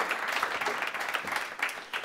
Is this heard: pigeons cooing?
no